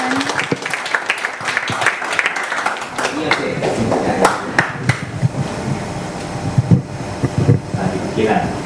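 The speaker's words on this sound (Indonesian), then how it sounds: "Boleh tepuk tangan." An audience applauds at a Catholic book launch and talk show, with steady, dense clapping throughout and a voice speaking over it.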